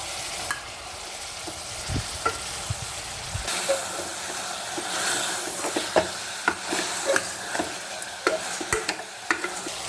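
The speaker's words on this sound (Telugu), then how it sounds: "ఇప్పుడు మనం కారం పొడి వేసుకుంటున్నాం." Chicken masala with mint and chili powder frying and sizzling in a pan, with a steady hiss broken by repeated scraping and clacking stirring strokes throughout, loud and close, with no voices.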